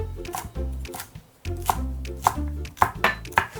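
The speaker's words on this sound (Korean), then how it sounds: "무나 배추 길이에 맞춰서 잘라주세요" A knife chops vegetable stems into short pieces on a cutting board, several sharp thuds in quick bursts with a brief pause, close and clear with no talking.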